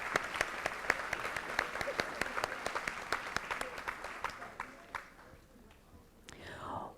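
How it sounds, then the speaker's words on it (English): Applause from an audience at a school board meeting honouring students: a crisp, spread-out round of clapping with distinct claps, quieter chatter and whispering beneath it, thinning out toward the end as voices rise. "Let's give her a big round of applause."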